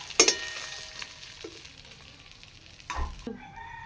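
Oil sizzling in a wok after frying fish, with a soft steady hiss, a couple of sharp spits and clatters near the start and a louder burst toward the end; no talking.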